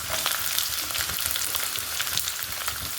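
Ivy gourd slices fry in coconut oil in a kadai with a steady, dense sizzle and faint crackles, continuous and close with no talk.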